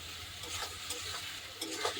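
Onions sizzle in a hot pan before meat is added, a brief close burst of bright frying crackle broken by a few quick stirring scrapes, with no voices.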